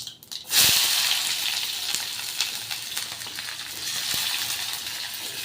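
Chopped onion hits hot oil in a pan for a tomato-onion chutney, bursting into a loud, bright sizzle that then settles into a steady hiss with small crackles, close and without talk.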